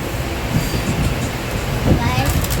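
A moving passenger train heard from the top sleeper berth gives a steady, close, full rumble of carriage and track noise throughout, with a few faint bumps and no clear speech.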